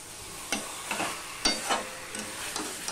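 Pointed gourd (potol) is stir-fried in a pan under a soft, constant sizzle, with several spaced scrapes and knocks of a spatula turning the pieces.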